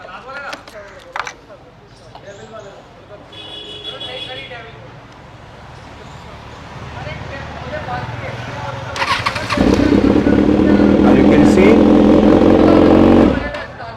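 A Kawasaki Z1000 motorcycle engine cranks and fires up near the end, settling into a loud steady idle after someone talks over quieter clicks and mechanical sounds.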